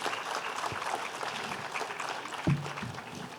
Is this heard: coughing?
no